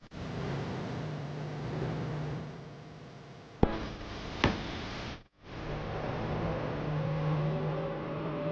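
A car is driven near a factory, its engine a steady close hum with a brief sharp knock and a short drop in the middle before the running noise resumes.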